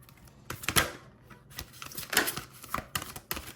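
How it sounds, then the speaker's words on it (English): Tarot cards shuffled by hand close up: a series of quiet, irregular riffling snaps and soft slaps, with brief pauses between bursts. "So we're going to go ahead and flip over these three cards. Or actually, let me shuffle."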